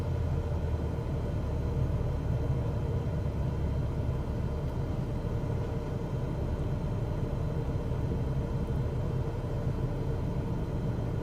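Aircraft engine idling down after landing in Microsoft Flight Simulator 2024, a steady, even low rumble and drone holding at constant loudness throughout with no talk over it.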